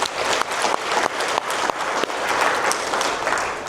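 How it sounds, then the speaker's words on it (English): A room full of attendees at a corporate tax, finance and AI training event in Dubai applauds loudly and continuously, with individual claps popping out of a thick, sustained burst of clapping. "Let's give a big round of applause to the whole team."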